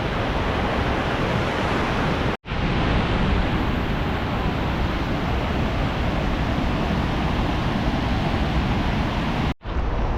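Steady, dense roar of a waterfall beside a forest road during a fishing and mushroom-hunting trip, loud and continuous throughout with no talk, broken only by two brief dropouts.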